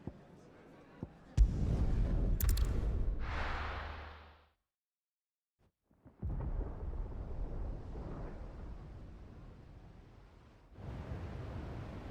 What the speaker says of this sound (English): Sounds like thunder.